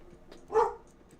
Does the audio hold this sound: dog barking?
yes